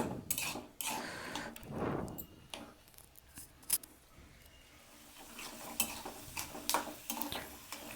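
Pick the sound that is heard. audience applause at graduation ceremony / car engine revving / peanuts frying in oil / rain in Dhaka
peanuts frying in oil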